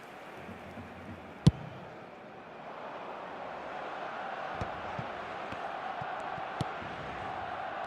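Stadium crowd in an eFootball co-op friendly match swells into sustained applause and cheering, a broad steady roar with a couple of sharp clicks over the top and commentary around it.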